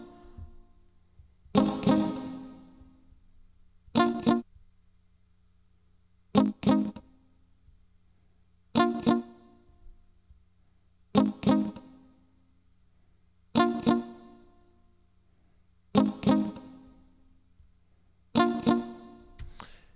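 Eight evenly spaced struck notes ring out one after another, each decaying into a smooth reverberant tail before the next, with silence between.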